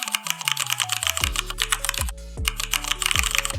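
Laptop keyboard with key click sounds switched on, keys typed in quick, steady succession, each press a crisp, close click with a short tone, continuing throughout with no talking.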